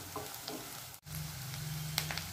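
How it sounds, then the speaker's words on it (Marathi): Onion and mixed vegetables sauté in a pan for mix veg Kolhapuri, a steady close sizzle and crackle with a few soft stirring scrapes and one brief dropout midway. "आता हे सर्व पदार्थ आपण छान लालसर होईपर्यंत परतून घेऊया।"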